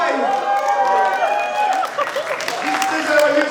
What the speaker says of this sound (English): This is a huge clap. Please clap for it.